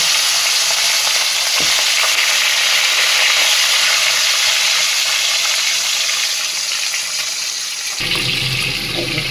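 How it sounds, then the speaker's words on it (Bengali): Katla fish heads frying in hot oil, producing a loud, steady, close sizzling hiss throughout, with a brief shift in tone near the end. "তার জন্য কাতলা মাছের মাথাগুলো ভেজে নেব"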